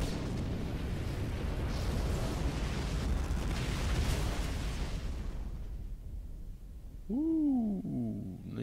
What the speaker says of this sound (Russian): Да это салют.